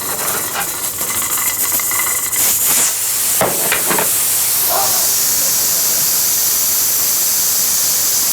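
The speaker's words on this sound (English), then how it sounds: "Here's some steam here, huh?" Steam hisses loud and continuous for the whole stretch, a broad steady rush with a few sharper bursts partway through, during a physics demonstration of heat transfer.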